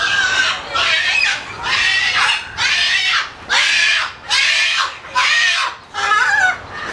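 Parrots squawk loudly and harshly in a steady series of about eight bursts, each lasting most of a second, close by with no one talking.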